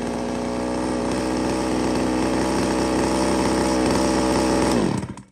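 A Japanese-made chainsaw already running after a pull start, its two-stroke engine holding a loud, steady buzzing idle close by, then cutting off abruptly near the end.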